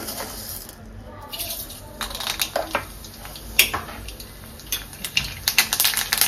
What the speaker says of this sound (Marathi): आता मी राई टाकून घेते